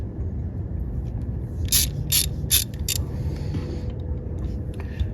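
Ratchet with a 10mm socket turning on the ignition coil of a 2007 Toyota Prius, giving four quick, close clicking strokes over a steady low background hum, no talking.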